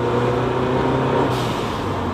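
A Ford Sierra Cosworth engine puffs and huffs with a steady, loud, broadband rush and low rumble, with no break in the sound throughout.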